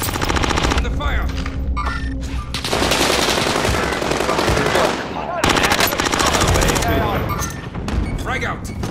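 Rapid machine gun fire in a video game shooter, dense bursts of automatic shots with brief gaps, loud and close, mixed with other gunfire and occasional player voices.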